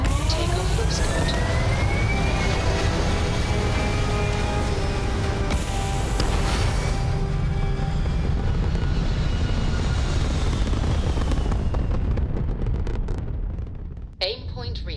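A spaceship lifts off in the video game Starfield with a loud, continuous roaring rumble and rising whine. The roar thins and fades near the end before a brief dip and a short return.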